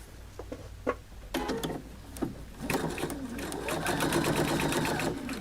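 A home sewing machine stitches along a pressed seam of a mitered corner, starting with a few short bursts and then running steadily in a fast, close mechanical whir.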